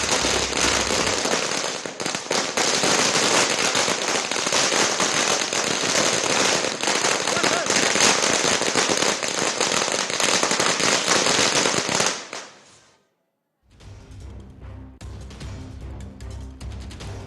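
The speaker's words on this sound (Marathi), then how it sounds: "कार्यालयाबाहेरच फटाके फोडले गेलेले आहेत।" Firecrackers bursting outside a party office during a BMC election victory celebration: a dense, loud, continuous barrage of rapid cracks and pops for about twelve seconds, a brief lull, then scattered bangs resuming.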